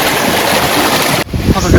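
Rushing water flows steadily in a small rain-fed stream with a broad, noisy wash, briefly dipping before surging back loud and close.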